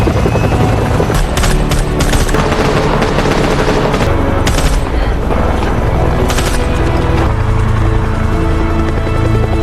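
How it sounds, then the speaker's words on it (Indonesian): A loud, dense roar of helicopter rotors mixed with rapid bursts of gunfire and booms as the helicopter attacks zombies in the film Alive, continuous and intense throughout. "tiba-tiba entah dari mana sebuah helikopter datang dari bawah dan segera menghabisi para zombie itu"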